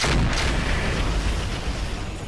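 Rockets and weapons fire from mechs in BattleTech, a dense, continuous roar of explosions and blasts, loud and sustained throughout.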